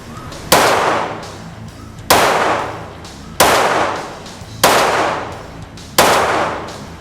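Five sharp, loud gunshots from a Glock 19 Gen 5 pistol fitted with a Demon Arms compensator, fired at a steady pace about a second apart, each with a crack and a decaying echo.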